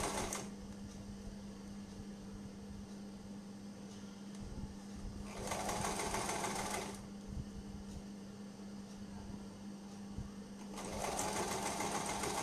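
Sewing machine stitching piping around the neck of a baby frock, a steady mechanical whir with a constant low hum, swelling into louder high-speed bursts three times, with no talk.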